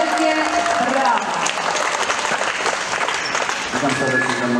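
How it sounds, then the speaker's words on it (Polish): Audience applause at a school PE lesson welcoming a biathlon world championship medalist, loud continuous clapping close by with voices mixed in throughout. "Wielkie brawa!"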